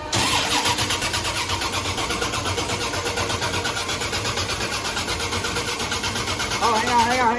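A diesel engine swapped into a vehicle cranks and catches, settling into a loud, steady rhythmic clatter close by, with a brief rise in revs near the end.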